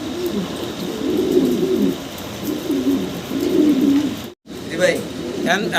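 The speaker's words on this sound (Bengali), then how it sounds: "অ্যাক্টিভ কত কবুতর দেখতেই ভাল লাগে" Fancy pigeons, including a large pair, cooing nearby in a steady run of low, throaty rolling coos, with a brief drop to silence before the cooing resumes.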